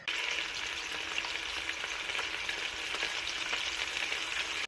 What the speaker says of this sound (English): So next, let's sear the meatballs.